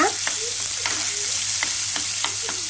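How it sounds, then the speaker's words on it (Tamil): Ginger and garlic sautéing in a pan for prawn gravy, with steady close sizzling broken by a handful of sharp spatula scrapes and stirring strokes, and no talking. "இப்போ நல்லா வணக்கி விட்டுருங்க"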